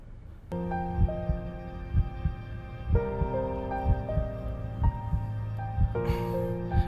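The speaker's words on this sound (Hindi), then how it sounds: "तुम्हारी धड़कन बहुत तेज है" A fast heartbeat sound effect in a dubbed horror web series, regular low thumps pulsing under sustained eerie musical tones.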